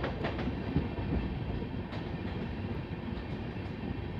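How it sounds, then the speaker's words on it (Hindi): The Lalkuan–Bandra superfast express rolls slowly through Dalpatpur station under a caution order, a steady rail rumble with faint clickety-clack of the wheels. "शायद यहाँ पर कॉशन है तो स्लो स्पीड में स्किप करेगी ट्रेन"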